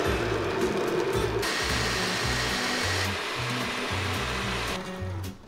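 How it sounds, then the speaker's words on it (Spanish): A blender purées kimchi sauce for Korean radish kkakdugi, a loud, steady close-up motor roar with a churning, pulsing low rumble throughout before easing off at the end. "Y vamos a licuar bien finito."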